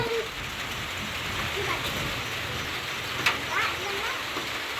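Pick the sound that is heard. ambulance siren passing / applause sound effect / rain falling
rain falling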